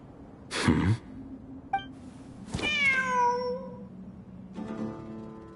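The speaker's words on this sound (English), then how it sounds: "The cat!" Cat meowing in the video game Genshin Impact, two or three distinct, clear meows spaced a couple of seconds apart, close and alone over a quiet low background hum.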